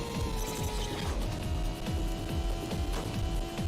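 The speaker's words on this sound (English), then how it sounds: "Why does it make that sound when I drift?" Rapid mechanical clicking and whirring from a car drifting in the video game Hot Wheels: Ultimate Racing, like a ratcheting electronic effect, repeating steadily over a continuous tonal drone.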